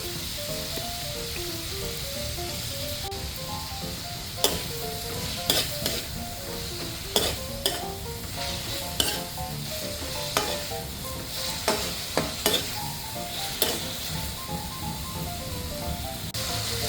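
Beef sizzles and fries in a pan with oyster sauce, a steady hiss punctuated by sharp scraping stir strokes at irregular intervals, close and moderately loud with no talking.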